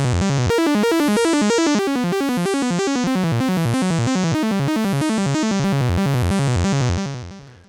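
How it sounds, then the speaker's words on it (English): An Elektron Syntakt synthesizer plays a fast LFO-driven arpeggiated pattern, bright stepped notes repeating at a steady rapid rhythm, loud and alone, before fading out at the end. "so that's a pretty cool way to kind of cheat an arpeggiator sound up in this bad boy right here."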